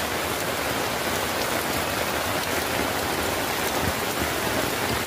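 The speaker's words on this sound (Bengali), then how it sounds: "দেখেছেন বৃষ্টি।" Heavy rain pours steadily onto an umbrella and the ground outdoors, a dense, unbroken hiss that stays loud and even throughout with no voices.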